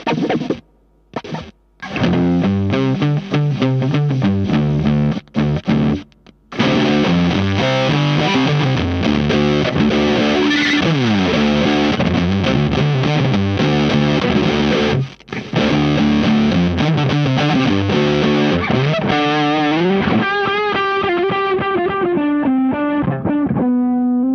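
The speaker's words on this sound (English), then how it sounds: "This effect can produce very aggressive distorted sounds, more pronounced than overdrive stomp boxes." Harsh, aggressive sample-rate distortion from the IK Multimedia X-Drive effect, with a low-pass filter, grinds over a sustained tonal line. A few brief cuts come early, then it plays loud and continuous before thinning toward the end.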